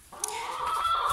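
Hens in a coop giving a brief, close cluck and drawn-out squawking call, short and clear over faint background.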